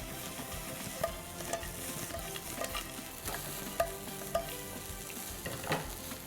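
Ragi (finger millet) vermicelli tossed in a pan for upma, with salt added: a steady sizzle under repeated scraping and clacking stirs, sharper knocks about every half second to a second, close and moderately loud, no talking.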